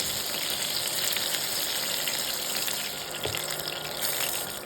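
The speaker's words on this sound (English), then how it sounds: "add in the fish and shallow fry it each side for 3 minutes" Catla fish pieces shallow-fry in hot oil in a pan, a dense, even sizzle and spatter that holds steady throughout, loud and close with no voices.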